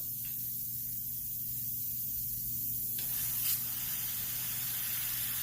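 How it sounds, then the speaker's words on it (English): An airbrush spraying paint on a tumbler, a soft steady hiss of air that grows brighter and fuller partway through, close and alone. "keep your air on sometimes when you're not really spraying, because you don't want the paint to dry out on your needle"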